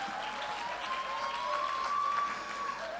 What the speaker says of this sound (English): So if you want to clap, you can clap.